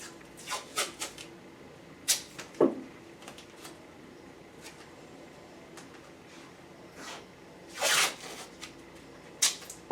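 Adhesive tape peeled and pressed onto a hand splint, giving a few scattered ripping and crinkling bursts, one longer tearing pull near the end, in a quiet room with no talk.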